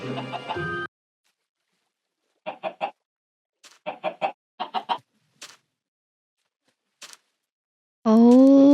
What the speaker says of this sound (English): Oh my god, we led the chickens all the way here.